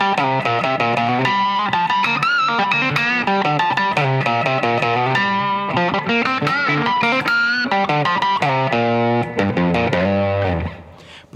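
Distorted electric guitar playing a busy run of ringing harmonics and notes, loud and continuous, cutting off abruptly near the end.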